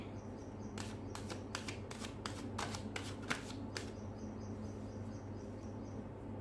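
Tarot cards are shuffled in a quick run of about a dozen crisp riffling snaps, close and clear over a faint background hum, then stop.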